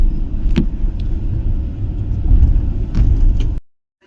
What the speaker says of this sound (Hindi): ये है हमारी गाड़ी श्री शक्ति एक्सप्रेस 22/461